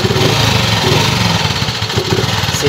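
A small motorcycle engine runs loud and close, its chugging rumble rising and wavering as the throttle is worked, with no talking.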